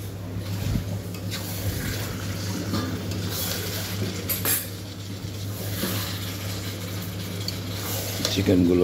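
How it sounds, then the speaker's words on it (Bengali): Chicken pieces are stirred with spices in a hot pan, giving a constant close sizzle overlaid with repeated scraping and clinks of a utensil against metal, steady throughout and with no talking. "চিকেনগুলো দিয়ে ভালো করে নাড়াচাড়া করে মশলার সঙ্গে মিশিয়ে নিচ্ছি।"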